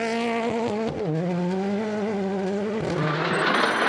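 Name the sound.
Ford Fiesta R5 rally car driving a stage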